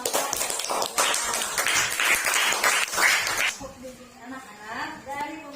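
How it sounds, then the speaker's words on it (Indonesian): Schoolchildren in a classroom clap for a student group, with quick, uneven hand claps lasting a few seconds before a teacher begins speaking. "tepuk tangan untuk kelompok"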